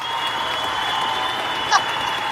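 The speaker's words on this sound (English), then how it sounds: "It's got a real live audience here applauding for you." A live studio audience applauds in a steady, even patter at moderate volume, with a faint constant tone running underneath.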